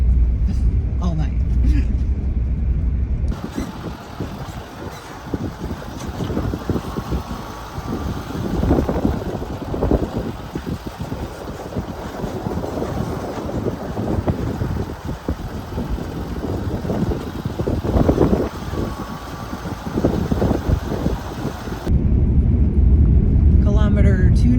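A car driving at about 64 km/h on a dusty, bumpy Alaska road, with a loud steady rumble of tyres and wind noise inside the cabin and a voice talking over it.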